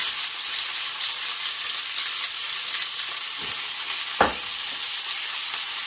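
A Kagoshima wagyu steak sizzles in a pan right after being flipped, giving a steady, close hiss of frying broken by a couple of brief clinks.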